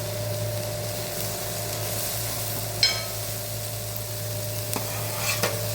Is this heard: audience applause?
no